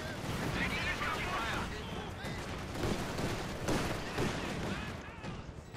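Gunfire and explosions from a Company of Heroes 2 match, pioneers firing in a dense, continuous battle din with distant bangs layered together.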